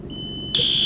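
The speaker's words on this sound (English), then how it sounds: "I don't know how to stop the alarm," A shrill electronic alarm tone sounds in the EmergeNYC emergency-response video game, a faint steady beep that abruptly jumps much louder and continues, with no talking.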